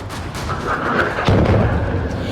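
Explosions in Iranian cities such as Bandar Abbas and Ahvaz, heard as a loud, continuous barrage of heavy booms and crackling blasts, with a deeper thud partway through.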